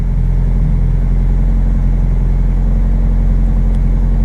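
A car engine running on a 420a with a Megasquirt fuel injection build, held at very low throttle, a steady loud low-pitched idle rumble with even exhaust pulses and no talking.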